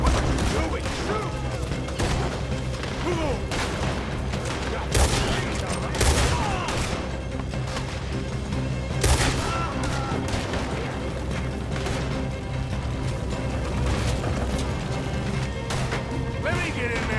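Chaotic gunfight in Red Dead Redemption 2 inside a burning building, scattered shots and crashes over a constant roar of fire and noise, with shouting voices mixed in.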